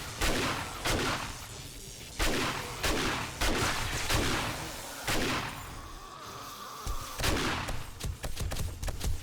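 Repeated shotgun blasts aimed at zombie hordes in the survival game 7 Days to Die, played on Insane/Feral difficulty, with about a dozen loud, sharp bangs in an uneven rhythm over a constant noisy game background.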